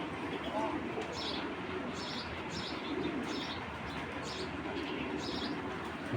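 Racer pigeons, a breeding pair, coo softly in repeated low phrases against a steady background hiss, with faint chirps nearby.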